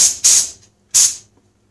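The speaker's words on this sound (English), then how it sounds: "I'm just going to go ahead and spray this off real quick" Two short hissing bursts of spray washing off a workpiece being cut down for a printer storage unit, each about a third of a second, loud and close with a brief pause between them and no voices.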